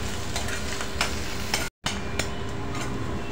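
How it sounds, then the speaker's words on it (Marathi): Crushed ginger-garlic and onions sizzle and sauté in a pan, a steady crackling fry punctuated by scraping stirs and one brief dropout midway. "आलं लसणाचं कुटून घातलेली आहे आणि हे चांगलं परतून घेऊया"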